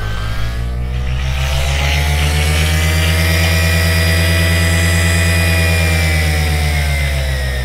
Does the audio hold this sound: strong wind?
no